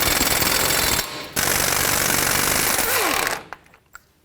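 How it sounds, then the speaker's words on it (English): A power tool rattles loudly in sustained bursts, with a brief pause, as a 32mm socket loosens the front axle nut on a 2007-2010 Chrysler Sebring during a wheel bearing and hub job, then stops and leaves a few faint clinks. "Let's take off the axle nut,"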